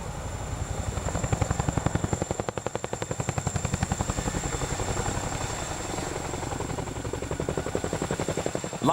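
A military helicopter thumps steadily with rapid rotor chop, loud and close, holding a constant rhythmic beat throughout.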